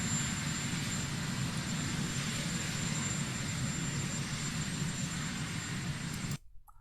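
Steady, loud whirring engine drone of a helicopter that has started up but sits with its rotors not turning, continuous without talk until it cuts off abruptly near the end.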